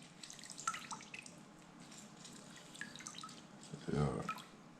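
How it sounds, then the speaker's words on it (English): Water drips and splashes while ginger and utensils are washed at a sink, a faint scattered trickle building to a short louder gush near the end. "Try to wash up everything properly to make everything clean."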